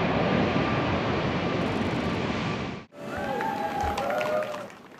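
A Boeing 737 MAX jet airliner on its first flight roars loudly overhead, a broad engine rush that cuts off sharply midway. Fainter jet whine and distant crowd noise follow.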